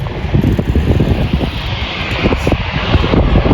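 A loud, steady airplane engine roar with broad rumbling noise, sustained and close, like a small plane climbing away after takeoff from a short runway at London City Airport.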